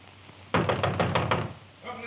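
Heavy knocking and banging on a door, a burst of about six loud rapid thuds, followed by a voice shouting.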